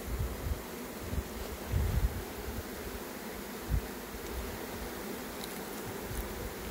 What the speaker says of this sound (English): The bees will very soon settle to this.